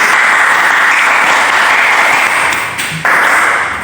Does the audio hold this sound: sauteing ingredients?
no